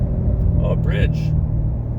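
A Corvette C7 Grand Sport's engine gives a brief throttle blip at a bridge, a deep low rumble swelling slightly beneath someone talking inside the car.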